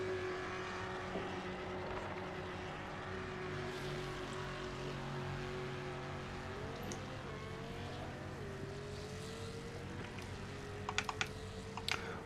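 Rally car in Gran Turismo 7 racing game, a steady engine drone with rising and falling pitch as it spins through 360s, overlaid by a continuous clatter of keyboard-like tapping and a few sharp clicks near the end.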